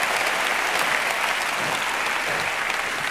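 A comedy show audience applauds steadily in a dense, even burst of clapping throughout, with no one talking over it.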